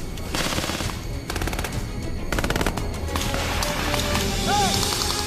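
Blank rounds crack out in an Army Ranger training firefight, with several rapid automatic bursts and scattered single shots over outdoor ambient noise.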